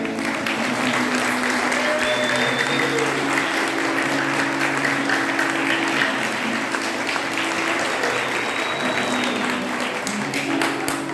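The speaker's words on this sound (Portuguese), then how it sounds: "Palmas para ele" A large audience applauds steadily for about eleven seconds at a talk session about the COMEERJ 2026 event, the dense clapping holding an even, sustained level throughout without breaks.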